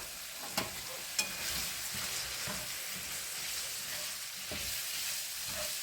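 Flour is stirred into sizzling sausage grease in a pan for gravy, a steady soft frying hiss with a few sharp clicks of the utensil scraping and tapping the pan.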